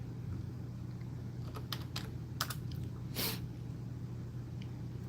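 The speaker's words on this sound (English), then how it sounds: "Let me move this so I can actually type here." Computer keyboard typing in a room with a steady low hum, a few scattered keystrokes and short bursts of clicks, fairly faint and with no talking.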